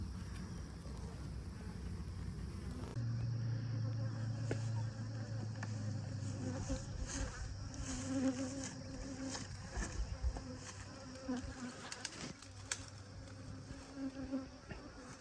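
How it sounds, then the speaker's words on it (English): A dense, steady buzzing of a large honeybee swarm, continuous throughout, with a low drone underneath and a few louder passes close by. "That is a big swarm of bees."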